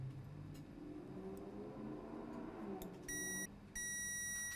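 A multimeter in diode test mode, used on a laptop board, gives two sustained high-pitched beeps close up, separated by a short gap, over faint background hum.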